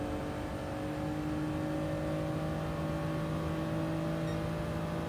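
A race car engine in GT Sport holds a steady, high-revving drone in fifth gear during qualifying. The tone is loud and constant, with no talking.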